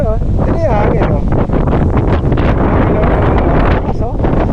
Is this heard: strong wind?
yes